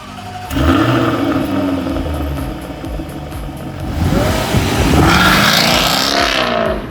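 A Jaguar F-Type sports car engine fires up loudly and settles, then revs up and down a couple of times, close by, with no talking.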